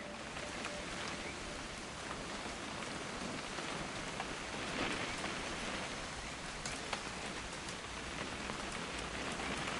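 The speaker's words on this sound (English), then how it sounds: "It's gonna rain the whole weekend," Steady, dense video game rain pattering on a surface, continuous and even throughout with scattered louder drops.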